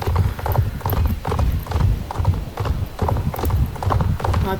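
Horse hooves clip-clop steadily in Star Stable Online, a horse-riding video game, a rhythmic, evenly paced run of close, clear hoofbeats with an occasional faint whinny.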